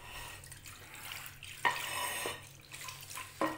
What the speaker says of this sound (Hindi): दूध को हम देगची में ऐड करेंगे।